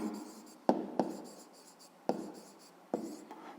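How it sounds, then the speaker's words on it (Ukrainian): Pen scratching on paper while a fifth-grade math exercise is written out, with soft continuous strokes broken by several sharp taps as the pen lands, close and alone without speech. "Отже, пишемо спочатку."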